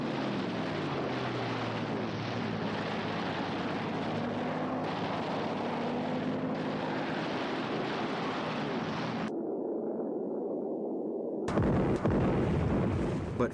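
Bombs exploding on the Japanese aircraft carrier Hiryu at the Battle of Midway: a sustained, heavy roar of blasts and rumbling fire, with aircraft drone, a muffled dip partway through, then a loud return.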